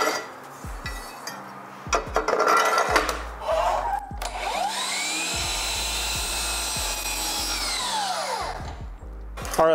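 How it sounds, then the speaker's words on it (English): A power saw makes a long miter cut through wood, rising from about four seconds into a steady high whine that holds for several seconds before spinning down. Earlier come shorter bursts of tool noise and handling knocks, with no talk. "We'll go ahead and cut the other side of the miter"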